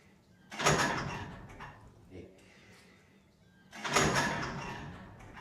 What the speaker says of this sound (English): The wind just shut the door.